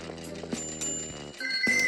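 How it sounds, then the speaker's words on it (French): A video game doorbell rings with bright bell-like chimes over a busy background of game sounds, with a second ring near the end. "Allez, activons la sonnette."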